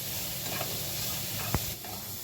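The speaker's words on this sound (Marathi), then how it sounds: "त्यामुळे आता हे कांदा बिना तेल टाकता व्यवस्थित असा परतून घ्यायचा." Onion dry-roasting in a pan without oil gives a soft, steady sizzle and hiss, with a sharp scrape of stirring near the middle and a few faint clinks.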